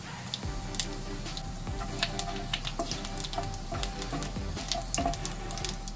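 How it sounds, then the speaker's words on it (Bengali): Dried chilies, whole garam masala, cumin seeds and bay leaves sizzle in hot fish oil, a steady close frying hiss dotted with quick popping crackles, with no talking. "এবার ওই মাছের তেলের মধ্যে দিয়ে দিচ্ছি 2টো শুকনো লঙ্কা, গোটা গরম মশলা আর হাফ চামচ মতো গোটা জিরে।"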